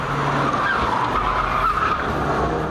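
Renault Mégane RS driven hard, tires squealing in a sustained high screech over steady engine rumble, close and loud throughout with no talk.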